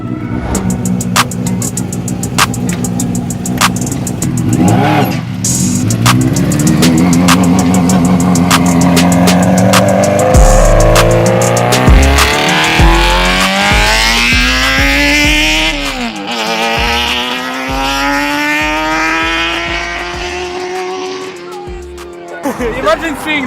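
A van fitted with a swapped motorbike engine passes and pulls away fast, its high-revving whine climbing through gear changes, loud and close, while excited voices talk over it.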